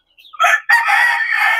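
A pea-comb rooster crows once nearby, loud and clear, opening with a short rising note and then holding a long drawn-out call.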